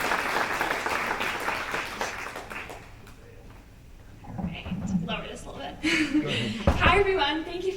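An audience at a high school freshman parent presentation claps for about three seconds, a dense patter of hands that fades into quieter murmurs, a few chuckles and then speech.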